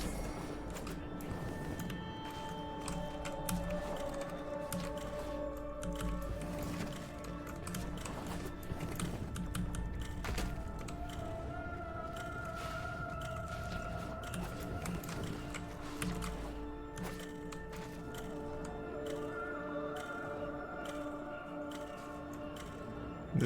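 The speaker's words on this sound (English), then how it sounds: "What's all that clicking?" Rapid mechanical clicking like a ratchet ticks steadily from a countdown timer in the video game Warframe, running continuously over layered sustained game tones and ambience.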